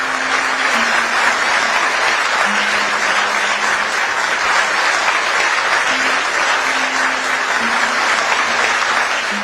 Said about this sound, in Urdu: آپ کی بھرپور تالیاں